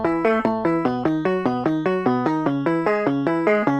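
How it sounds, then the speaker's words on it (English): A plucky arpeggiated guitar preset in FL Studio plays rapid, steady repeating note patterns that step through chords, bright and close, with no voices. "put them into some new guitar sounds that sound like this"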